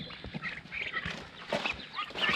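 A flock of chickens clucks and murmurs continuously nearby, overlapping calls rising and falling against a busy farmyard background.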